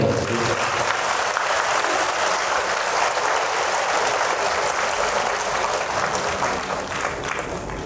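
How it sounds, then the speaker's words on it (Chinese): Sustained applause from an audience at a Buddhist talk, a thick wash of clapping that holds steady throughout and eases slightly near the end. "咁我哋再次佢哋鼓鼓掌，多謝你哋"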